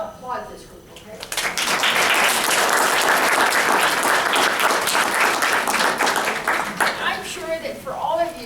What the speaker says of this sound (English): Y'all applaud this group, okay?